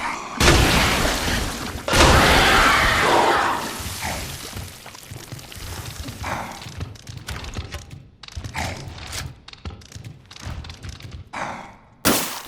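Acid rounds fired at a Licker in the Resident Evil 2 Remake: two heavy, booming shots a couple of seconds apart open the clip, followed by scattered thuds and knocks, and a final loud shot at the end.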